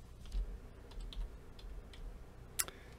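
Fingers type a command on a computer keyboard, a quick run of soft close key clicks ending in one sharper tap, alone in a quiet room.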